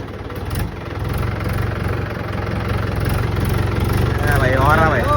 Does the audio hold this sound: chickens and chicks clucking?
no